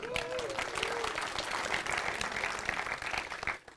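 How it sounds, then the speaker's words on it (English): Audience at a GOTO 2021 tech conference talk applauds itself, a dense, even roar of many hands filling the room, with a brief faint voice near the start before it tapers off at the end. "So give yourselves a round of applause."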